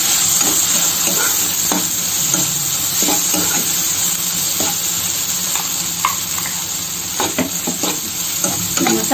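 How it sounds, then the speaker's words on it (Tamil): Okra (ladies finger) frying with ground masala for a tamarind puli masala, giving a loud, constant sizzle and hiss throughout, with repeated scraping strokes from stirring and no speech. "மசாலையும் ஒரு 2 நிமிஷம் வதக்கிக்கோங்க."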